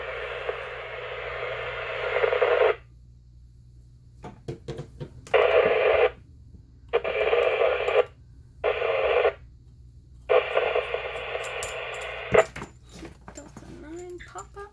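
A low-power 2m handheld radio, UV-5 class, receives scratchy transmissions: several hissy bursts of static-laden signal lasting one to two seconds each, cut off abruptly by squelch with quiet gaps between them.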